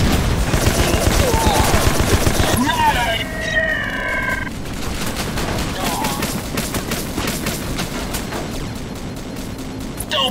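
Gunfire and a grenade explosion in Rogue Trooper Redux: rapid bursts of shots rattle at the start, a heavy blast follows, and scattered shots continue under game voices.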